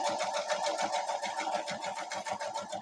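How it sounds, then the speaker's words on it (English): Sewing machine stitching fabric strips corner to corner along seam tape for a scrappy quilt block, a fast, even mechanical chatter running steadily throughout, close and moderately loud. "I am just going to sew corner to corner using my seam tape."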